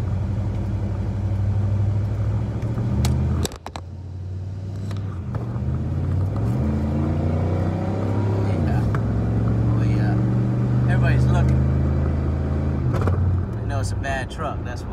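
An OBS Chevy pickup with a 305 engine, lift kit, aftermarket exhaust and all-terrain tires rumbles along off-road, its engine note rising and dropping through shifts and bumps, with a voice speaking occasionally.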